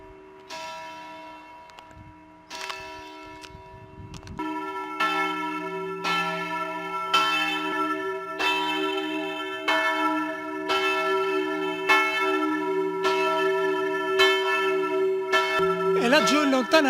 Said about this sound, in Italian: Come potete sentire dalle campane a mezzogiorno